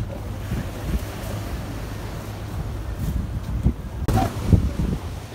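Strong wind and choppy waves after a typhoon buffet the shore, a steady low rumble of surf with gusts of wind noise across the microphone and a few sharper splashes near the end.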